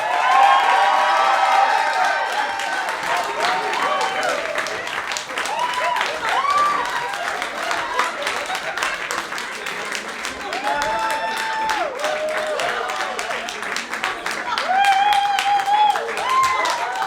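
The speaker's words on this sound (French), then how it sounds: "j'aimerais qu'on donne une chaude main d'applaudissements, s'il vous plaît, pour Anita Turcotte et Tite Bébine" Applause and cheering from a live podcast audience welcoming two guests, sustained clapping with scattered whoops and shouts filling the room throughout, with some voices mixed in.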